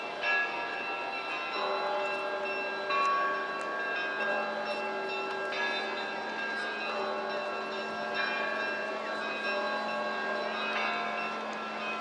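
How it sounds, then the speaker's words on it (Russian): Church bells ring at Kazan Cathedral on Red Square in Moscow, sustained overlapping bell tones with struck peals renewing every few seconds, steady and moderately distant over open outdoor ambience, with no talking. "А это звон колоколов в Казанском соборе."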